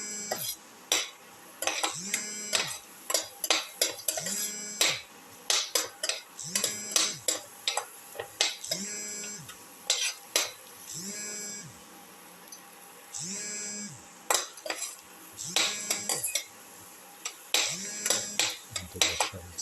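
Eggs, tomato and ginger sautéing in a pan, with repeated scraping and clinking of a utensil against the pan in irregular bursts and a faint sizzle underneath, close and moderately loud.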